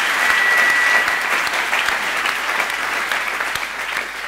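An audience at an Olympic reception bursts into sustained applause, steady dense clapping that continues without a break, close and loud.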